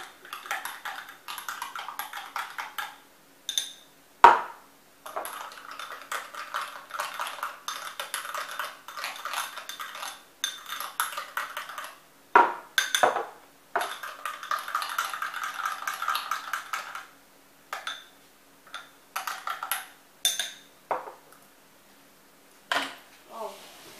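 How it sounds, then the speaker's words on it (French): Spoon clinking against glasses while a cucumber, lemon and mint smoothie is stirred, light metallic taps and scraping in bursts with short pauses, close and fairly quiet. "Donc je vais le mélanger dans les verres comme si c'était un café."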